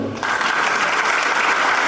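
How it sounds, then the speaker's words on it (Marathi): Dense audience applause at a Khandekar college event, starting abruptly and holding as a loud, steady wash of clapping hands. "टाळ्या मारायला नक्की हरकत नाही"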